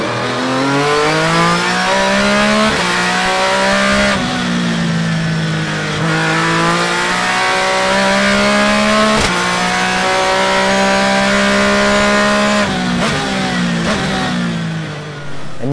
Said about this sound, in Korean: 남자의 심장을 뛰게 하는 건 역시 자연흡기 엔진과 시퀀셜 미션의 사운드입니다